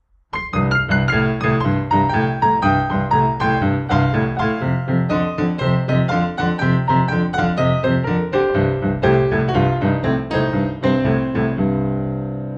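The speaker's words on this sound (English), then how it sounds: "And what it is octave harmonies, and it sounds like this." Blues piano plays a steady run of notes doubled in octaves, moving through a scale with a lively, continuous rhythm at a loud, close level.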